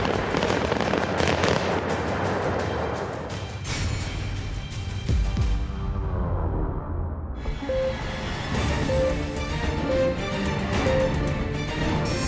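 A blast at a North Korean nuclear test site tunnel booms and crackles through a rumbling, debris-laden roar, followed by a quieter stretch with a faint repeating tone and lingering rumble.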